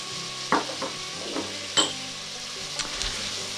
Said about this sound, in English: we're just going to cook this until the onions and the celery are translucent and the carrots have softened a bit